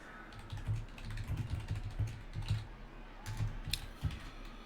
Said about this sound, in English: A lot of typing going on here.